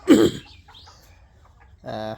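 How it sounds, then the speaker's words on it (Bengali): A single chicken gives a short cluck close by, then a brief pause before a voice speaks at the end. "এই মুরগিটা এত ভালো"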